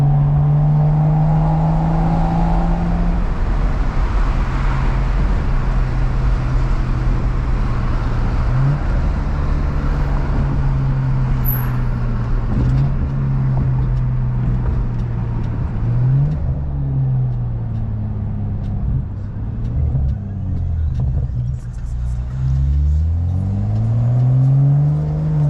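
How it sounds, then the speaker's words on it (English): A BMW 535i turbo engine with a 3-inch single-exit exhaust runs close by, holding a deep steady drone and then rising and falling through several revs, with light turbo spool under the exhaust note. "You could hear the turbo spool a little bit louder."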